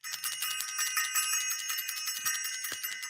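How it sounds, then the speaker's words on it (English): A small hand bell is rung continuously at close range, a bright sustained jingling shimmer with steady rapid strikes, heard alone without talk. "I want to ring the bell"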